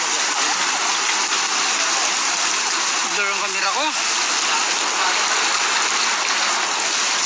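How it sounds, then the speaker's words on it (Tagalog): Floodwater rushes down a street in Marikina after Typhoon Ulysses, a loud steady roar of flowing water filling the whole stretch, with someone speaking briefly partway through. "Karsada naging ilog na."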